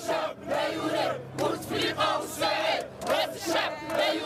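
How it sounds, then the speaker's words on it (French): A crowd of protesters gathers in Algeria, a dense mass of voices chanting in steady rhythmic waves that rise and fall every half second or so, loud and continuous. "Rapidement, la foule commence à grossir."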